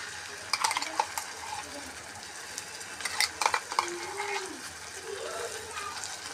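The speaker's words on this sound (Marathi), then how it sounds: "छानपैकी मस्त मी मिक्स करून घेणार आहे." Ground masala paste being stirred into cooked tomatoes in a pan: soft scraping and gentle sizzling, quiet and close, with a few light clinks of a spoon and faint background noise.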